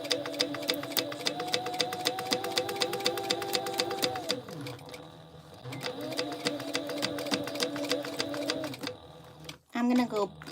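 Backstitching with a sewing machine over backpack webbing: rapid, steady needle clatter and motor hum in two close runs separated by a short pause, with a brief voice near the end.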